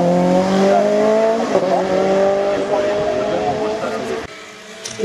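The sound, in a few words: race car at a hill climb, number 29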